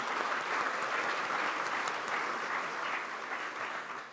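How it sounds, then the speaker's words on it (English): An audience at a hosted program applauds its guests with dense, even clapping that holds steady for four seconds and then eases slightly. "Let's give them all an applause."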